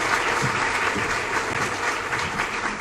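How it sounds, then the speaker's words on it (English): A crowd at a spring capstone festival gives graduates sustained, dense applause, a steady wash of many hands clapping at fairly close range with no break. "Can we give them a round of applause?"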